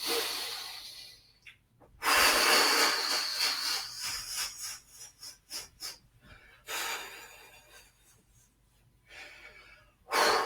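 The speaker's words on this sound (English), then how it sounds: "Let's keep going with the breath. So it's nice deep breaths." Deep, audible breaths taken during a standing shaking exercise: long airy inhales and exhales with sharper gasping bursts, close and fairly quiet, separated by brief pauses, with no speech.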